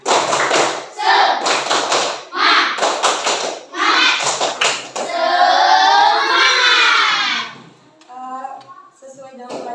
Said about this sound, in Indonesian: mari kita tepuk semangat